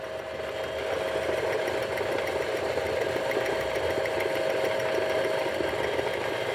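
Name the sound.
car engine running as the clutch pedal is pressed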